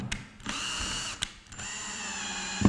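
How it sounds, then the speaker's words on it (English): A power drill drives a small screw into a wooden round coffee tabletop, its motor whining in several steady bursts with brief pauses between, close and fairly loud with no talking. "I'm attaching a little screw"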